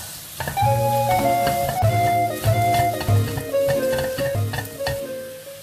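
Coriander and chili powders are stirred as they fry in a pan, giving a steady close sizzle with scraping spoon strokes and clinks against the pan, no voices.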